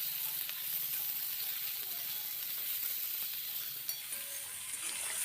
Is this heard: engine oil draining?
no